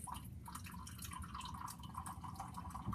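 Water trickles and drips as it is carefully poured into a measuring container to 50 milliliters, a faint, steady light splashing with quiet background hiss.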